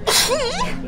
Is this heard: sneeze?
yes